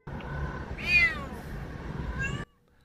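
Kittens rescued from frozen ground meow in a close, loud cry that rises and falls, with a second shorter mew near the end before it cuts off.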